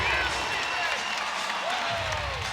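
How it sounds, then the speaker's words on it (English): A bench at a women's college basketball game between USC and UNCG breaks into a broad wash of clapping and cheering after a made basket, with a commentator talking over the steady crowd roar and squeaking shoes. "the bench has erupted in a greater applause than this bucket by Iwachukwu"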